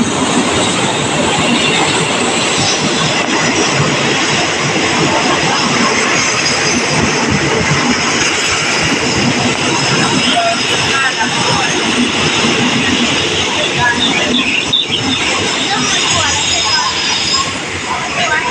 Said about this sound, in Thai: อุ้ยรถไฟมาใกล้พอดี